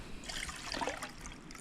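Fresh water pours into a pot sitting on a campfire, a short gurgling trickle close by that swells briefly and then fades.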